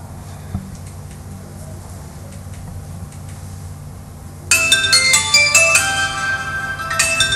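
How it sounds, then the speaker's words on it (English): A mobile phone starts ringing partway through, its bright electronic ringtone loud and close with a repeating melodic pattern over a low room hum. "The phone is ringing."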